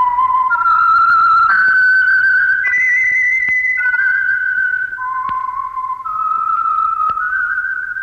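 A melodic whistled signal tune for The Whistler radio show, a clear solo whistle of sustained, stepwise notes carried alone over a faint low hum.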